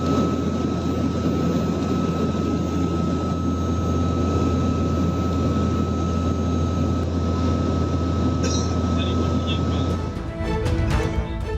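A CN-235 aircraft flies overhead during a search for victims of a sunken ferry in the Bali Strait, giving a loud, steady propeller-engine drone with a constant tonal hum that ends in a shift near the close.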